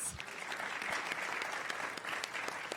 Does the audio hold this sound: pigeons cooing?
no